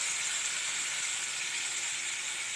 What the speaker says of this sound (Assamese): এতিয়া মই মাছখিনি ঢালি দিলোঁ। মাছখিনি ভালদৰে ভুনি ল'ব লাগিব।